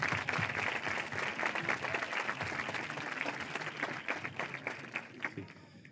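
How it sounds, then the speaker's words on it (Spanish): An audience at a panel discussion applauds its five guests with a steady, full round of clapping that thins into scattered individual claps before dying away. "pido un fuerte aplauso a los 5 para dar comienzo a la tertulia"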